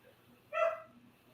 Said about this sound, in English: Oh, I hear the pup.